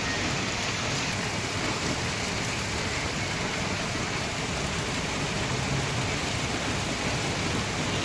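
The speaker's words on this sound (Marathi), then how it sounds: "जोरात आहे पाऊस." Heavy rain pours down steadily, a dense continuous hiss and patter filling the whole scene from start to finish, with no voices.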